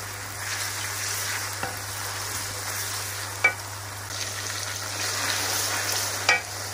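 Pumpkin and chana dal fry in a pan with a steady, close sizzle, and a few sharp clicks of a stirring spoon against the pan come through at intervals.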